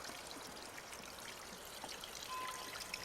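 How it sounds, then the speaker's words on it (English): Small garden waterfall built from slate trickling into a backyard koi fish pond, a steady, soft, continuous splash and trickle of water with no talking. "Dad got all of these slates from the casemate and created a little waterfall in there."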